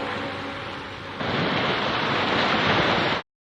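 Ocean surf from a film scene washes in steadily, then swells louder partway through and holds a broad rushing wash before cutting off abruptly.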